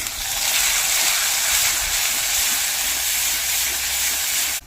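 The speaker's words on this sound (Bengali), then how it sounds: "এবার মশলা তেলের সঙ্গে ভালোভাবে কষিয়ে নেবো" Spices for a shrimp and taro stem curry fry in hot oil, giving a loud, steady, broadband sizzle that holds evenly throughout with no talking.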